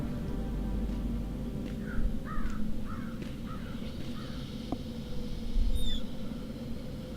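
A crow in the Dreamfall video game caws in a quick series of about six harsh calls over a low, rumbling game ambience, followed by a brief higher-pitched squawk near the end.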